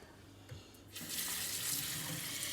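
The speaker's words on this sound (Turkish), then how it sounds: "Şimdi pirinçlerimizi güzelce yıkayacağız." Soaked rice being rinsed under a running kitchen tap for buttered pilaf; after a second of quiet, a steady, full rush of water starts and continues to the end, with no talking.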